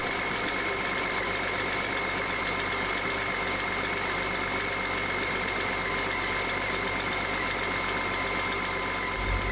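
A 2010 BMW X5 35d with its diesel engine idling after a cold start, producing a steady, continuous rumble with a faint knocking clatter, close and even throughout with no talking.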